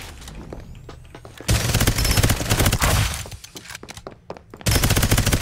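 Dense automatic gunfire erupts in the Farlight 84 battle game, loud rapid bursts of shots with booming impacts, pausing briefly midway before another heavy burst resumes near the end.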